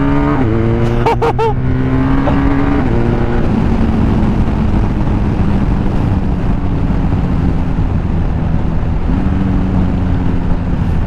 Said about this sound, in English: Oh, those downshifts, man! So underrated.